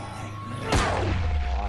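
A head explodes in the zombie video game Dying Light, a sudden booming burst that cuts through a low background rumble and trails off into a lingering roar.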